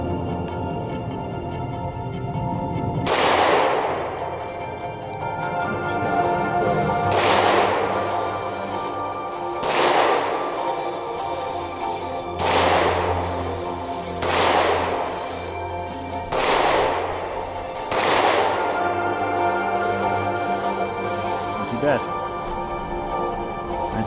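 Six loud pistol shots ring out from an Ed Brown Alpha Carry 1911 with a steel frame, spaced a few seconds apart, each a sharp close crack with a short decaying echo, while someone talks between them.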